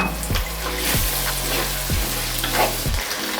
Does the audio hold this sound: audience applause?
no